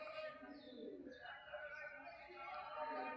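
Pigeons coo softly in the distance, faint throaty calls and high chirps blended with background murmur and what sounds like speech, quiet throughout.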